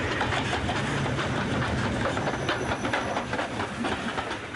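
A British Rail 9F steam locomotive, number 92022, races past at speed, a dense rumble with rhythmic clickety-clack of wheels over rail joints, loud and sustained throughout.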